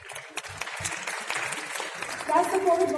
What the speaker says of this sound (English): If I can just have a round of applause to them.